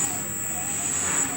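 An EZ Cut MK7 saw machine runs at medium speed with a steady, loud motor whine and a high tonal hum, close and unbroken over a short stretch.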